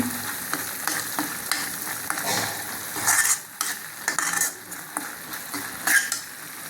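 Ingredients for a paneer butter gravy sauté in a pan, with a steady sizzle under repeated close scraping and clinking of a spoon against the metal.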